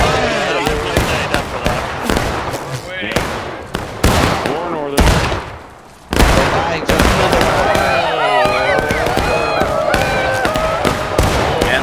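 Rifle volleys ring out in a Civil War video game battle as Confederate lines fire, dense crackling bursts of shots, loud and close, with a short lull midway before the firing resumes heavily.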